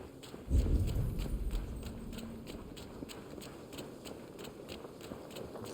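Horse hooves clip-clop steadily in the video game Assassin's Creed Valhalla, a regular rhythmic beat at moderate level over a low rumbling game ambience, with no talking.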